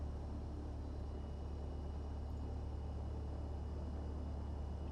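Piper PA-28R Arrow III light aircraft taxiing in Microsoft Flight Simulator 2020, a steady low engine drone and rumble, even and continuous without pauses, with no talk over it.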